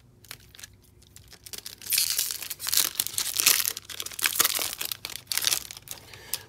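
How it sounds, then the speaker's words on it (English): Foil wrapper of a Magic: The Gathering Zendikar Rising collector booster pack being torn open and crinkled, loud bursts of crackling and tearing after a quiet start, with a brief word spoken. "never get tired of opening these collector boosters"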